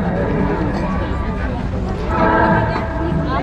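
A dense crowd at the Gondwana Mahotsav fair in Raipur makes a steady babble of many voices, with one nearby voice talking clearly over it.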